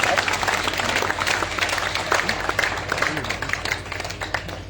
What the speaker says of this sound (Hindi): एक बार दोनों हाथ ऊपर करके तालियां उठाइए।